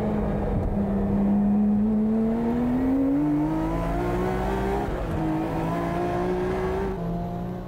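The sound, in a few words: Mine's Nissan Skyline R34 tuned race car lapping the track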